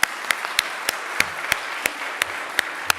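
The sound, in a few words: audience applause at a concert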